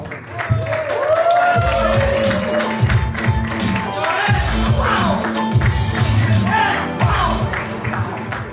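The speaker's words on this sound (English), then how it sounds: "applause going right now for my man, beautiful Ant" A live comedy club audience claps and cheers for a comedian, a steady wash of applause with scattered shouts running the full length, while a compère talks over it.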